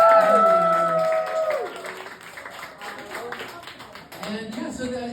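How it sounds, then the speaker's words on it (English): Scattered clapping from a small audience at a book launch for Joseph, moderately loud, with talking voices over and after it. "So everyone please give a round of applause for Joseph."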